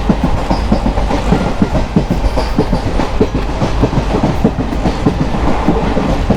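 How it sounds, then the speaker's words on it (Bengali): A passenger train nears Pamban railway station on the Rameswaram to Chennai line, its wheels clattering in a loud, steady, rhythmic clickety-clack heard from close by with no talking. "ট্রেন ঢুকছে এখন পাম্বান রেলওয়ে স্টেশনের দিকে।"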